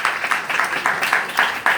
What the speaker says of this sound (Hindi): भरपूर तालियां बजाएंगे